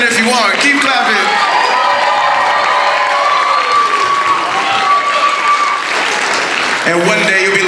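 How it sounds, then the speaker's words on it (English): Steady, loud applause fills a school talent showcase hall, mixed with cheering and shouts from children in the audience, with a voice briefly cutting in near the start and end. "Keep clapping."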